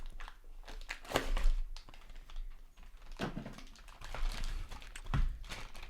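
Packaging of a Garmin Varia RCT715 bike camera radar crinkles and rustles while the box is unboxed, producing irregular close handling bursts and tapping-like clicks with no talking.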